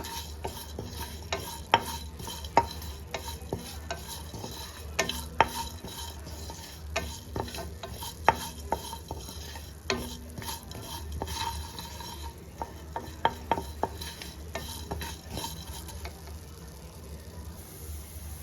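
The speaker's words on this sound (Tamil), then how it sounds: "மீடியம் ஃப்ளேம்லேயே வச்சு இந்த மாதிரி வதக்கிட்டே இருங்க" Green peas masala for pachai pattani kurma is sautéed over a medium flame, giving a low, steady sizzle with repeated close utensil scrapes and taps against the pan.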